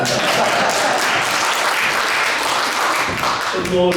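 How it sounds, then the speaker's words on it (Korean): Audience applause fills a church prayer meeting of Korean elders, a dense, steady wash of clapping from a large crowd lasting throughout, with a brief musical tone creeping in at the very end. "박수를 한 번 더 치시죠."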